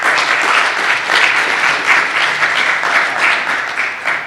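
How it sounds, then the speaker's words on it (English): A large audience gives sustained, even applause for ten student finalists seated in the front rows at a university research presentation competition, steady dense clapping for about four seconds with no voices over it. "Please give these 10 finalists a round of applause."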